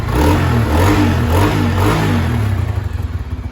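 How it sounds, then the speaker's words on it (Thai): A Sonic motorcycle engine, started cold and being warmed up, idles loudly up close and revs in steady surges, its deep rumble rising and falling before settling into a choppier putter. "เดี๋ยวต้องวอร์มเครื่องสักหน่อยเร่งเครื่องสักหน่อย"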